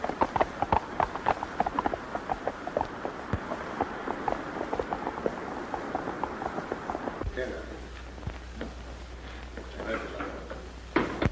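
Rhythmic clip-clop of horse hooves trots steadily throughout, with people talking over it and a low rumble joining in later.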